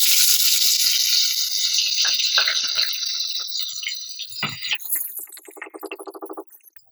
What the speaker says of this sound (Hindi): अब इसको हम फ्राई कर लेते हैं।